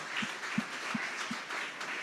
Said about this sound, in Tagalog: Malakas na palakpak para sa ating mahal na Panginoon.